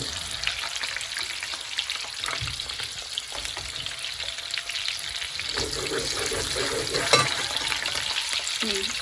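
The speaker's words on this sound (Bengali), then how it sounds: "এমন এমন করলে তোমার ডিমটা ভাজা হয়ে যাবে" Steady crackling sizzle of an egg frying in a pan, close and continuous, with occasional scraping of a utensil and no talking.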